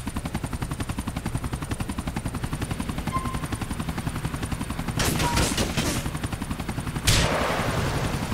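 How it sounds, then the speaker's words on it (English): Helicopter rotor thrum pulses steadily throughout a Grand Theft Auto 4 game scene, with a loud burst of rapid automatic gunfire around the middle and another sharp blast near the end. "Get rid of their chopper with it."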